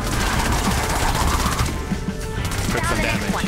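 A gun fires rapidly at husks in the video game Fortnite Save The World, loud and near in a dense run of shots with game effects and a voice talking over it.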